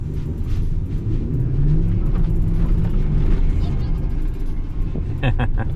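A single-turbo Ford F150 pickup in four-wheel drive spins donuts in a parking lot, its engine a steady, heavy low rumble close by, with a few sharper bursts near the end.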